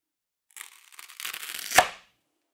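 A kitchen knife cutting during a sharpness test: one short, close slicing sound that builds into a tearing rasp and ends with a sharp thunk, then silence.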